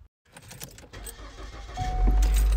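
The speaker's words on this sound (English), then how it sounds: "Preheat the car, and off we go." A car engine cranks and catches, building into a loud idling rumble after a brief rustle and jingle of keys, with no talking.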